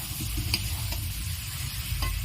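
Fried jackfruit pieces tipped into a pan of cooked-down spice masala for an echor chingri curry, with a steady close sizzle and a few soft spoon taps and scrapes, no voices.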